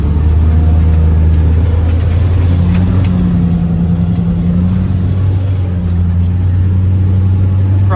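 A Bombardier J5 tracked swamp vehicle's engine drones loudly and steadily from close by, a constant low hum with slight shifts in pitch and no speech.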